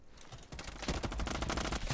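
Rapid automatic gunfire from the Roblox game Modern Warfare 2 rattles in dense, sustained bursts, quiet in level and growing busier partway through, with no talk over it.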